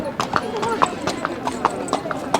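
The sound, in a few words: horse hooves clip-clopping on Mall Road, Shimla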